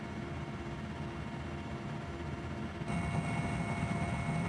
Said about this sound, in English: Our delegation is flown to rebel territory in a 20-year-old Russian helicopter chartered by the United Nations.